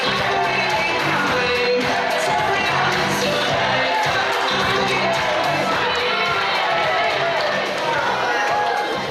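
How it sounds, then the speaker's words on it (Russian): A school KVN comedy contest audience in Buryatia cheers, shouts and applauds as teams come onto the stage, a dense, loud, steady crowd roar throughout. "Я прошу все команды выйти на сцену под ваши громкие аплодисменты."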